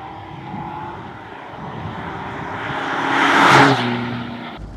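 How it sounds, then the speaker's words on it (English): A Saab 900 T16 convertible's engine drones steadily, then its exhaust swells into a louder booming roar echoing off walls as it cruises through town, before easing off again. "you can hear the exhaust booming against the walls"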